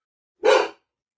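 A single short, loud bark from a dog indoors, one sharp burst standing alone against silence.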